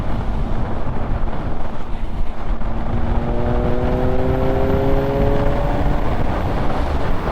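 A 2019 Triumph Speed Triple RS motorcycle accelerates hard, its engine note climbing through the gears in rising sweeps beneath heavy wind roar on the move.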